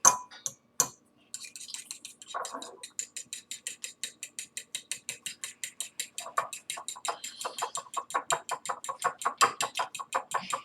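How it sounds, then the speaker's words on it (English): Fork whisking ingredients together in a bowl: a fast, even run of light metallic clinks and scrapes, close and steady, after a couple of louder knocks at the start. "you're going to take a fork and whisk it all together"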